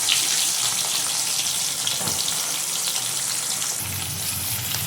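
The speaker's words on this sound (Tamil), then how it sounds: "நம்ம பெருஞ்சீரகம் போட்டு தாளிச்சிக்கலாம். பெருஞ்சீரகம் பொரிஞ்சதும் வெங்காயம் போட்டுக்கணும்." Fennel seeds and onion fry in hot oil for a Tamil egg curry, giving a steady, loud, close sizzle that runs the whole time with no talking.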